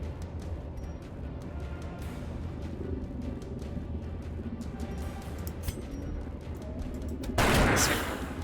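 Grapeshot or pistol fire from the video game Darkest Dungeon: a single sharp, loud burst near the end, over a dense, steady bed of game ambience.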